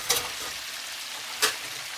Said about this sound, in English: while we get these pierogies fried up a little bit